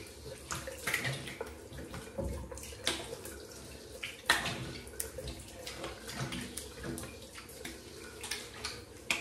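Running tap water rinses a shaving brush close by, a steady splashing flow with irregular bursts and swishes as the brush is worked under the stream, with no one talking.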